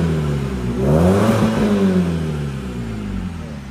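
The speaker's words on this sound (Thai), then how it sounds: "แล้วก็เสียงท่อเสียเดี๋ยวให้ฟังกันนะ" A BMW 320i E93 convertible from 2008 with a loud aftermarket exhaust, its engine revving up and settling back over a steady rumbling drone, close and with no speech.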